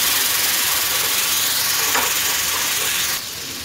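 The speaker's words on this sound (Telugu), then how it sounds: "ఈ టొమాటో వేసుకొని మిక్స్ చేసుకోవాలి." Tomato paste sizzling in hot oil as it is mixed in a pan for stovetop pizza sauce, a loud steady hiss that eases slightly near the end, with no talking.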